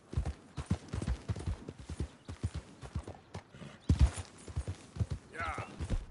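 Horse hooves clip-clopping in the video game Red Dead Redemption II, a steady rhythmic trot of close, distinct hoof strikes, with a brief whinny near the end and a voice speaking over it.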